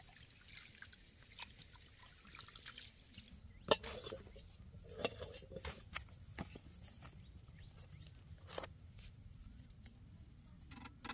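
Cleaned prawns being washed by hand in a bowl of water, giving soft splashing and dripping with a few sharper clinks of the bowl, fairly quiet and close, with no talk.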